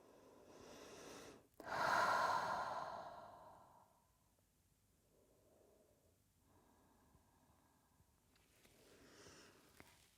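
A person rests during a slow yoga session, giving one long audible sigh-like exhale followed by softer, quieter breaths in a calm, otherwise silent room.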